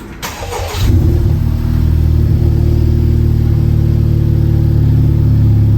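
A Honda Civic Type R FK8, fitted with a flex fuel kit and running poorly, cranks briefly and then catches into a loud, steady engine idle that drones on close by.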